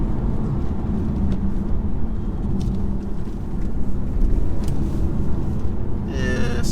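A 2018 BMW 430d coupe with its diesel engine pulling hard under acceleration: a steady, loud low rumble mixed with road and wind noise heard from inside the cabin, continuous throughout with no talking.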